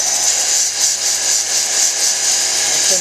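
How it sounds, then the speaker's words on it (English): A 600-grit lapidary wheel sands the back of a freeform stone cabochon, producing a loud, steady high-pitched whirring grind that pulses gently as the stone is worked against it, with no voices. "Sanding the back smoother on the 600."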